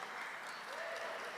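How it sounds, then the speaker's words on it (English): Steady applause from a concert audience in a large hall at a live tribute show, a dense even wash of clapping that holds at a constant level, with a few cheers and whoops rising above it. "So give yourself a round of applause."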